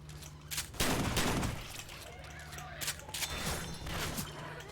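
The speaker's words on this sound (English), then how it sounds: "Deploying frag rounds." Frag-round gunfire in Left 4 Dead 2 bursts out in a dense, booming cluster, with scattered further shots over a constant game-noise background.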